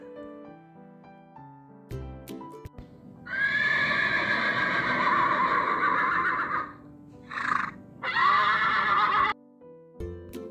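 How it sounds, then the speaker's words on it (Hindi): A horse neighs loudly and close by in a long shrill whinny followed by shorter calls, set between brief musical notes. "ये है घोड़ा, जिसे हम इंग्लिश में बोलते हैं हॉर्स।"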